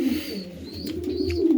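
Pigeons coo in a breeding loft, a steady low throaty cooing that runs continuously through the moment, close and clear, with a faint higher background hiss and no speech.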